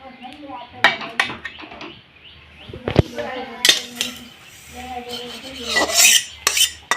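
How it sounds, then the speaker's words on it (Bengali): Lightly roasted semolina is scraped out of a pan onto a plate with a metal utensil, giving intermittent rasping scrapes and sharp clinks in uneven bursts, close and fairly loud. "একটা থালায় আমি এই সুজিটা নামিয়ে নেব।"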